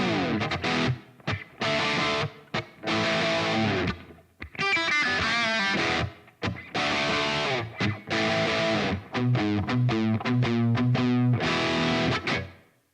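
Crunchy, overdriven electric guitar through an Amped ML Plexi amp on its Aussie Rock setting plays choppy rock chords and riffs with short pauses, loud and close.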